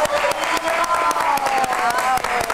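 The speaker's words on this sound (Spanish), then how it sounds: "Y aquí te aplaudimos y te deseamos mucho éxito" A studio audience in a Spanish-language morning TV show breaks into sustained clapping, dense and fairly loud, with voices calling out and talking over the applause.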